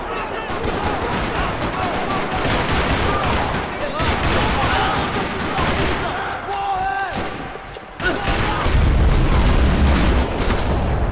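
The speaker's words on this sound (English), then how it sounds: "Another parking lot rattling with gunfire." Gunfire in a parking lot in the video game Max Payne: rapid bursts and booming shots, loud and close, with occasional voices and a heavy low rumble at the end.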